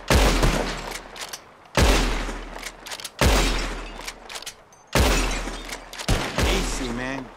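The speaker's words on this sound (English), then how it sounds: "The one who shoots the most bottles wins." Gunshots fired at bottles in the Red Dead Redemption 2 video game: four loud, sharp cracks spaced about a second and a half apart, each trailing into a decaying echo, with faint talk near the end.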